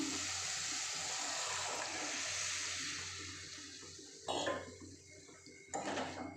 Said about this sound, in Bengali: ছোলার ডালটা ঢেলে দেবো